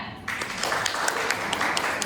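Applause starts abruptly and keeps going, a small group clapping steadily at close range.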